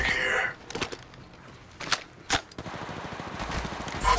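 Gunfire in the battle royale shooter Apex Legends Mobile: sharp cracking shots, some isolated and some in quick bursts, over game ambience, with a voice speaking early in the clip.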